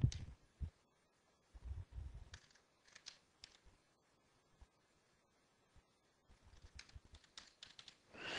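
Keystrokes on a computer keyboard typing a file name, arriving in short clustered bursts with a long quiet pause in the middle, close and fairly soft.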